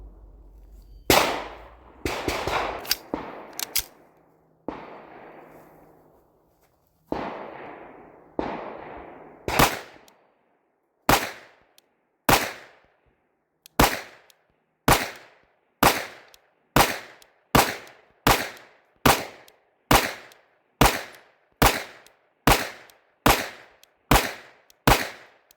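Glock 47 handgun fitted with a Performance Trigger, fired outdoors in a long string of loud, sharp gunshots; early shots come in quick irregular bursts, then settle into a steady, evenly spaced series of single reports with short ringing tails.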